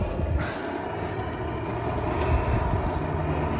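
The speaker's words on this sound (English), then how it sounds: "It's a little windy out here." Wind rushes steadily across the microphone outdoors beside a portable propane wok burner, a low continuous rumble and buffeting with no voices.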